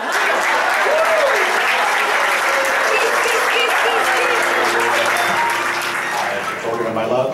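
Loud, steady applause from a crowd of guests right after a civil wedding ceremony in Lima, sustained for several seconds with faint voices underneath.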